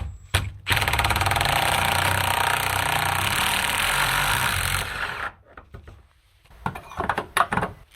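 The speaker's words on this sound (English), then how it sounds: "So we actually need a 32 diameter hole, and I found for sheet metal these hole cutters are the best." A hand-tightened hole cutter bites through sheet metal to make a 32 mm hole, a loud, steady grinding drone lasting about four seconds. It stops abruptly and is followed by scattered clicks and knocks.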